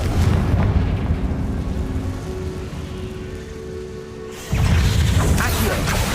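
A Confringo blast spell going off in a wizarding video game, a heavy crashing boom that bursts in loud near the end after a stretch of rumbling ambience, with a voice calling out over it.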